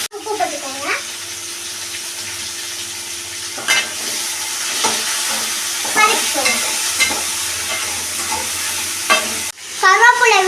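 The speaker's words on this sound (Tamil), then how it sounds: "தக்காளி எல்லாம் இந்த அளவுக்கு வதக்கிட்டு" Tomatoes with salt sauté in a pan for tomato chutney, a close, steady sizzle broken by repeated scraping stirs of a spoon against the pan, ending in a louder clatter.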